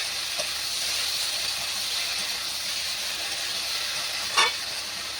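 Spiced ingredients with turmeric and salt fry in a pan, giving a steady, close sizzling hiss throughout with a brief louder stir or scrape near the end.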